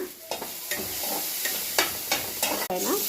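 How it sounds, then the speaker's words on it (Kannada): Okra sizzling in a teaspoon of oil in a pan, a steady frying hiss punctuated by several sharp scraping stir strokes at irregular intervals, close and moderately loud with no talking. "ಈ ಕಡೆ ಬಂದು ಸ್ವಲ್ಪ ಎಣ್ಣೆ 1 ಟೀ ಸ್ಪೂನ್ ಹಾಕ್ಕೊಂಡು ಬೆಂಡೆಕಾಯಿನ ಹುರ್ಕೊಳ್ಳೋಣ."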